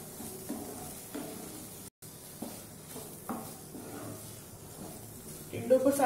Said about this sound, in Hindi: तो इस टिंडे को हम मसाले के साथ अच्छी तरीके से भून लेंगे।